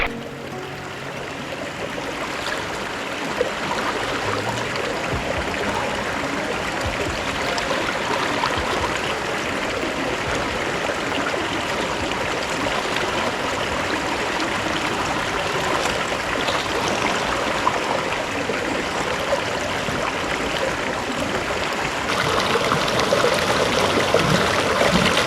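A small waterfall in a creek, where bedrock is being checked for gold, rushes and splashes steadily at close range, loud and unbroken for the whole stretch, with no voices.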